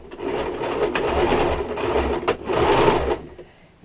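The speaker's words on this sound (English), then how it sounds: "And then just sew down the middle of the tab." Sewing machine stitching down the middle of a doll-sized mini apron tab, giving a steady close mechanical whirr with slight speed changes before stopping.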